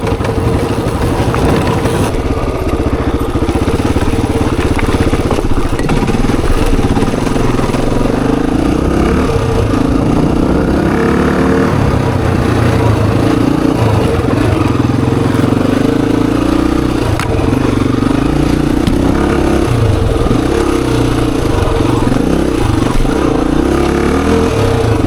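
A Honda XR motorcycle climbs a hill in second gear, its single-cylinder engine droning loud and close with a steady throaty rumble that rises and falls slightly with throttle throughout.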